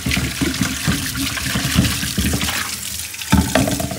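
Hot water runs from an open tap in a steady, loud, splashing stream, unbroken for the whole stretch with no voices.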